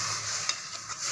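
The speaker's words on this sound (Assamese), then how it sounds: "এয়া উতলি আছে।" Eri silkworm pupae boil with salt in a pot, giving a soft, quiet bubbling simmer with a few small pops over about a second.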